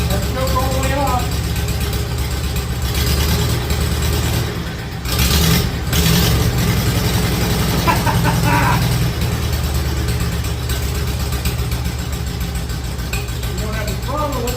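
A 1951 Farmall Cub tractor engine idles without its throttle hooked up, holding a steady, low, loping rumble up close. The engine dips briefly once partway through, and people talk over it.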